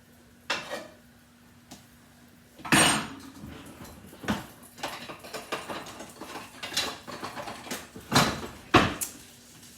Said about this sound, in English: Kind of like toss it around like so that it covers the skillet completely.